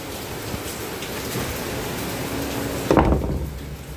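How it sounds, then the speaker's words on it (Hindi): Heavy rain pours steadily outdoors as a dense, continuous wash of noise, with a brief louder splash or thud near the end. "and as you can see बारिश फुल गिर रही है"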